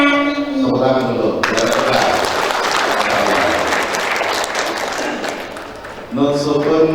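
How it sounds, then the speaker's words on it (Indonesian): Children clap together in a classroom Quran recitation lesson, a dense burst of applause that fills most of the moment, with voices speaking briefly before and after. "tepuk tangan dulu."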